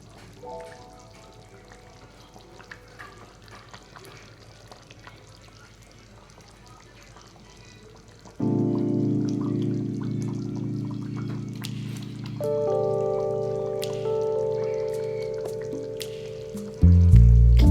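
Fish drops into a pot of boiling, oily curry, setting off a sudden loud, sustained bubbling sizzle that swells again later after a quieter simmering start.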